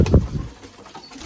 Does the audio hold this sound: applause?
no